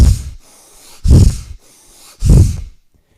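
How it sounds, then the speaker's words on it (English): Bhastrika yoga breathing, forceful nasal inhales and exhales, heard as two loud, close, rushing breath bursts separated by quieter airy pauses, with no talking. "Bastrika is forceful inhales and exhales in and out of the nose."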